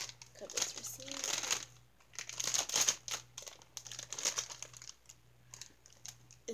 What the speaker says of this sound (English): Cut this receipt.